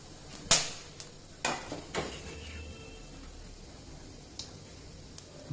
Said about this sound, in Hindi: इस गरम मसाले को अच्छे से तड़कने देंगे।